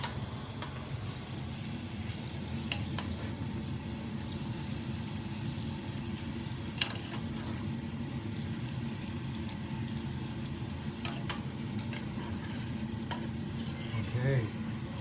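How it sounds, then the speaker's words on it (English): Noodles dropped into sauce in a hot pan set off a continuous close sizzle and frying hiss, with scattered clicks of stirring and a light watery bubbling throughout. "So we're just drop our noodles right in."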